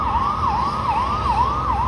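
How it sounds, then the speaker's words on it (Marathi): A fire engine siren wails through a village in a steady, rapidly repeating rising-and-falling cycle, loud and close, with no voices over it. "अरे अग्निशामकची गाडी आहे तर"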